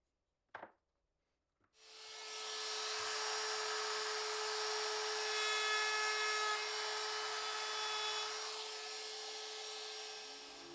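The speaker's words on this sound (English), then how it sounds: "I can sticky tape my template back onto the leg and I'll just tidy it up with the router" A router trims a wooden table leg flush to a taped-on template, a steady high-pitched whine with cutting noise that starts after a couple of brief knocks and runs for about nine seconds before easing off.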